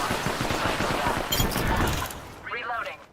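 Rapid automatic bursts of smart-bullet gunfire in Apex Legends, loud and dense for about two seconds, then fading as a voice speaks over the tail.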